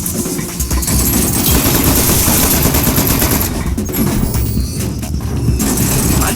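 Rapid automatic turret gunfire in the video game Aperture Desk Job, loud and dense bursts running nearly the whole time, with a brief thinning partway through.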